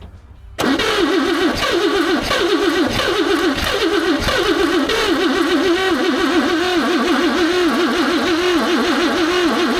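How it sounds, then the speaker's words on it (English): A 1954 Chevrolet engine with a slight exhaust leak cranks, catches and runs loudly nearby, its idle pulsing in a steady uneven rhythm with a puffing exhaust note. "Oh, she has a slight exhaust leak."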